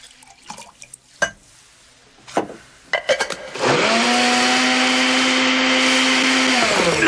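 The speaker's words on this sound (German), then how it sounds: "In der Küche schüttete er alles in den Mixer." A kitchen blender mixes a drink in a radio play: a few sharp knocks and clatters come first, then the motor starts with a loud, steady whirring drone that runs on alone to the end.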